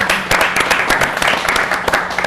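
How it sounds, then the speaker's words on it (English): Brief applause from a conference audience welcoming a panelist at a public broadband session, a moderately loud patter of claps with a few sharp, distinct hits standing out. "Please give Milena a quick round of applause and welcome today."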